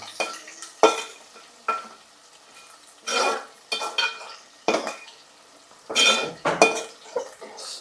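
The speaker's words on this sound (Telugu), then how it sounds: "రెండు పచ్చిమిరకాయలు వేసుకున్నానా కలిపేస్తున్నాను వాటిని" A spoon or spatula stirs green chillies into a curry in a metal pan, giving irregular scraping clanks with a light sizzle between them, close and fairly clear, with no talk.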